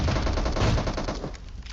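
Rapid automatic gunfire from PUBG Mobile erupts in a dense, loud burst of repeated shots, rattling continuously for under two seconds with no talk over it.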